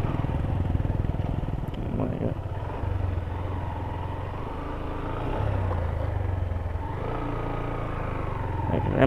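A motorcycle ridden through thick sand with its wheels bogging down on the road from Sylhet to Bisanakandi, the engine droning steadily and rising in places, loud and close, with a voice talking over it.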